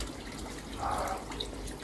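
A small trickle of water runs steadily into a garden fish pond on a hot day, a soft continuous splashing that stays low and even throughout.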